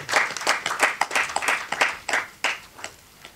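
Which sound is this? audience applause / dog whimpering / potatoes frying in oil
audience applause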